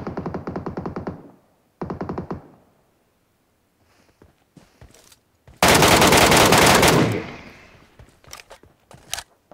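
Automatic gunfire from the Metro Royale video game comes in two short rapid bursts and then a longer, louder sustained volley, with faint footsteps and scattered small noises between the bursts.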